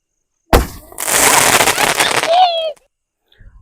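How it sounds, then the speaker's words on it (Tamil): A multicolour 7-shot Sivakasi firework goes off, its sharp loud burst followed by a sustained crackling, fizzing spray with rising whistle-like tones before cutting off into silence. "ஃபர்ஸ்ட் வந்து 7 ஷாட் மல்டி கலர் வெடிச்சு பார்ப்போம்."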